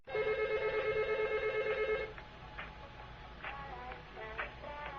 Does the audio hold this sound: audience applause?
no